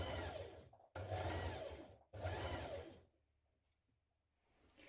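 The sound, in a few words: sewing machine stitching the coat neckline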